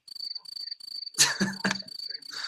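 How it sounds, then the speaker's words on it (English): A looped cricket chirping sound effect, used as a joke for dead silence, with steady pulsing high trills played close and clear. A short burst of noisy clatter briefly cuts in partway through before the chirping continues. "Crickets, man."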